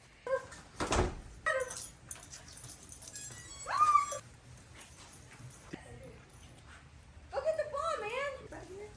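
A puppy whimpers for a treat, giving high thin whines and squeaks close by. People talk over and between the whines, with some thumps and handling noise.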